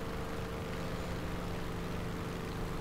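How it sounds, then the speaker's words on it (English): The piston engine of an AD-4 Skyraider attack aircraft in the War Thunder video game drones as a steady, low, even hum with a faint tonal whine, unbroken and without talk. "Let's whip that engine hard."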